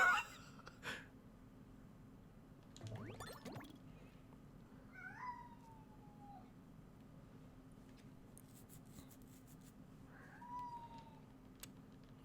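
A cat meows twice, each a short rising-then-falling cry a few seconds apart, fairly clear over a low steady background hum in a room where a Crash Bandicoot 4 speedrun is being played.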